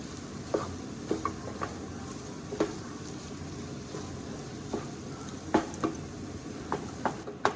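Mashed potatoes being mixed in a pan for homemade pav bhaji: a spatula taps and scrapes at irregular intervals over a soft, steady background hiss, with no talking.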